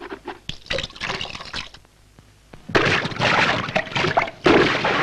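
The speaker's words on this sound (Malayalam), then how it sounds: "ഇങ്ങനെ വെള്ളം കലക്കിയാലോ കുട്ടികളെ" Children stir and splash water in a muddy-bottomed bathing pond, with loud bursts of churning and sloshing that come in two bouts separated by a brief quieter pause.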